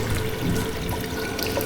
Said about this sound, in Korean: 수도꼭지에서 물이 흐르고